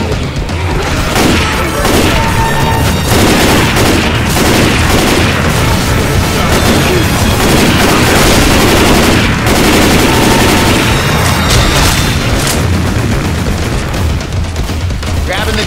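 A chain gun fires in Left 4 Dead 2 survival mode, a loud and unbroken stream of rapid gunfire with booming impacts that fills the whole stretch without pause.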